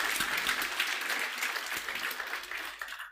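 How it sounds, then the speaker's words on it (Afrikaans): Church congregation at an anniversary service giving a singer a big round of applause, steady dense clapping throughout with a few faint voices mixed in. "Gee hom 'n groot hande klap."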